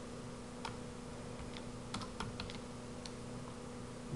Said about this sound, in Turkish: Bluetooth klavyenin azizliğine uğradık. Bir türlü yazmıyor.